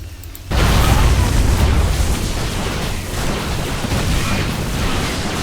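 A tank blown up in a real-time strategy game match, heard as a sudden loud explosion that keeps rumbling as a broad, sustained roar after a brief quiet lead-in.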